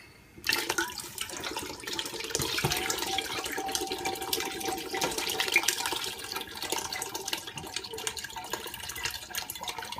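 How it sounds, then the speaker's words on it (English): Coconut water poured from cans into a cooking pot for a creamy spicy chicken curry, a steady continuous splashing pour running close and fairly loud for the whole stretch, with no voices over it. "In go the coconut waters."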